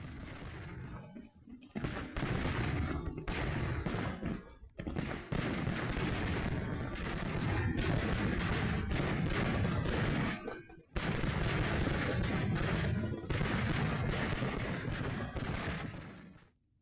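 Fireworks at a temple festival explode in dense, rapid crackling volleys, loud and continuous, with two short pauses between bursts.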